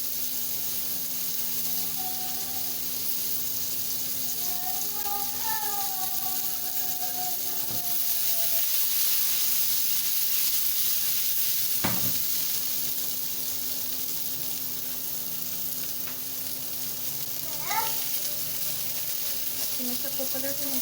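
Seekh kebabs sizzle steadily on a barbecue, a constant close frying hiss with occasional clinks and faint background sounds.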